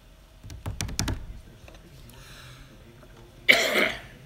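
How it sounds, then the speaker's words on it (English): Behind the scenes in a TV studio, a short cough bursts out near the end, preceded by a few soft knocks and faint background murmur. "that was a cough"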